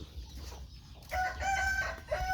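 A rooster crows nearby on a rural farm with ducks around, the call loud and drawn out after a short stretch of quieter background clucking and ambience.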